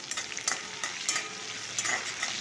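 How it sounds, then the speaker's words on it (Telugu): Curry leaves and green chillies frying in hot oil, a close, bright crackling sizzle with quick spits and the scrape of stirring, steady throughout with no voices. "కరివేపాకు, పచ్చిమిర్చి కొంచెం వేగనిద్దాం."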